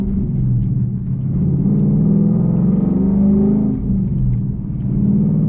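A manual-transmission car engine hums steadily nearby, its pitch rising and dipping as it pulls through the gears.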